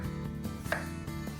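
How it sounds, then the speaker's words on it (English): A knife chops a potato on a chopping board in a few close, evenly spaced strokes over a low background hum, with no talking. "Next is to chop the potato."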